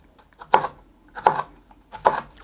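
Three sharp knife strokes chop thick green onions (jjokpa) in half on a cutting board, evenly spaced and close, each a crisp thud with a short ringing edge, no talking.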